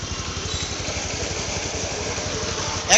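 A 2021 Bajaj Pulsar double disc motorcycle idles nearby, a steady low engine throb with fine rapid pulsing and a brief sharp click at the end, no talking.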